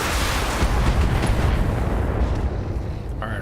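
Heavy mech weapons open fire in the BattleTech video game with dense, rumbling explosive blasts that run on without a break, loud throughout and thinning a little toward the end.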